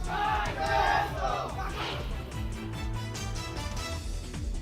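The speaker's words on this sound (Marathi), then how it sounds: "कार्यकर्त्यांचा जल्लोष." Party workers cheer and shout in celebration after Navid Mushrif's appointment as chairman of the Gokul milk union, a loud crowd roar at first that settles into a steady, somewhat distant din of voices.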